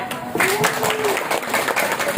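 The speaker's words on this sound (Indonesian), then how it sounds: "Tepuk tangan sekali lagi boleh?" An audience of participants at a teachers' workshop on curriculum implementation claps together, a brief wash of applause that rises after a moment, with a voice speaking or calling out over the clapping.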